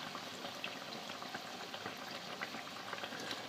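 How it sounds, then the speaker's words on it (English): Beignet dough frying in hot oil, giving a steady dense crackle of bubbling and popping that stays even throughout, close and moderately loud with no talking. "You'll know you're getting close when the bubbling starts to slow down."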